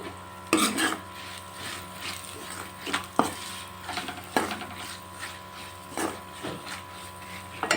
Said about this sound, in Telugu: ఇందులోనే పసుపు కారము ఉప్పు ఇవన్నీ వేసి బాగా కలపాలి